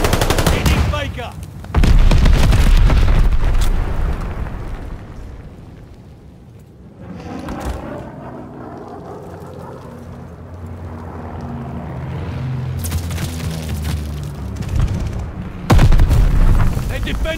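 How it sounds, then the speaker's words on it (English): Explosions from a bombing run in Call of Duty: Vanguard boom loudly in heavy bursts at the start and end, with rumbling and crackling between, and voices and game noise underneath. "Teammate called a bombing run."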